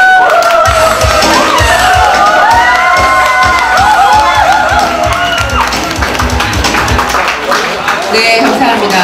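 A large audience at an indoor workshop event cheers and claps over loud music, a dense roar of crowd noise with shouts and whoops that stays constant throughout.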